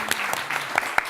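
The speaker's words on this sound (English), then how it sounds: "Big round of applause for Zara." Audience clapping at a demo day event, a short burst of scattered claps with a few distinct hand strikes standing out.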